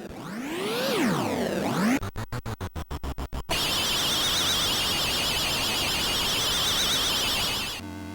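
Loud, harsh Commodore 64 sound effects from the arcade game Wizard of Wor: sweeping synth tones, then a choppy burst of rapid stuttering blasts, then a sustained warbling electronic drone, all alone and at full volume.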